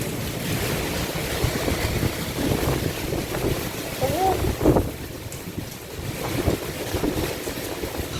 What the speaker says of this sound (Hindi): बाहर तो जा भी नहीं सकते बहुत ठंडी हवा है।